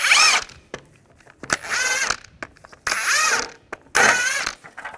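A ratchet fitted with a 19mm socket loosens lug nuts on a 2005-2010 Chevrolet Cobalt wheel, giving several bursts of rapid clicking and whirring. The bursts are separated by short pauses and sound close and loud, with no talk.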